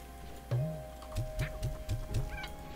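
Chickens clucking in the video game Slime Rancher 2: one drawn-out cluck followed by a quick run of five or six short, close clucks over a faint background hum, with no talk.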